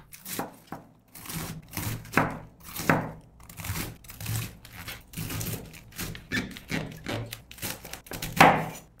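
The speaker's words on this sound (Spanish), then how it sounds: "Cortamos todo el repollo." A knife chops through cabbage on a cutting board in a kitchen, giving a close run of crisp, irregular crunching strokes, some in quick bursts and others with short pauses, with no talking.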